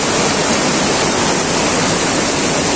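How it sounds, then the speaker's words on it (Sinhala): Water of Bambarakanda waterfall in Sri Lanka pours in a steady, dense roar, close and loud, with no pauses or voices over it. "තියෙන්නේ බඹරකන්ද දියාලේ වතුර තමයි."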